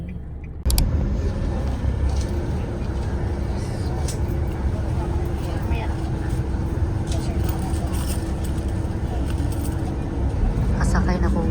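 Steady low engine rumble and road noise from inside a moving bus, continuous and fairly loud throughout, with occasional light rattles and clicks over the drone.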